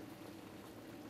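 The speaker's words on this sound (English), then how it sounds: "Now we're going to let that simmer for about 8 minutes." A pot of chicken with onion, garlic, thyme and salt simmers, giving a soft, continuous bubbling hiss that stays steady and low throughout the brief moment.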